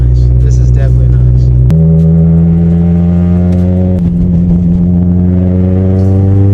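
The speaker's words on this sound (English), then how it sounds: "Those 1320 exhaust headers absolutely hum." Honda Integra DC2 fitted with 1320 exhaust headers cruising from inside the cabin, a steady deep engine drone with one gear change partway through, loud and continuous with no voices.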